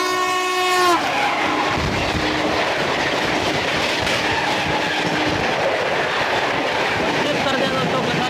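A Puri–Anand Vihar Purushottam Express passes close by during a train crossing, opening with a loud horn blast that cuts off after about a second, then a continuous roar and rattle of coaches rushing past for the rest of the time.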